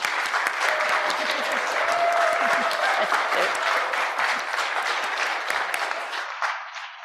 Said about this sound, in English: So I want to have some special applause right now just for Sally.